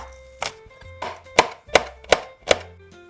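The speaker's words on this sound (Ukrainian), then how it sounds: "Нарізаємо часничок." A knife chops garlic on a board while fish soup is prepared, five or six sharp, distinct knocks at an uneven pace, close and clear with no talking.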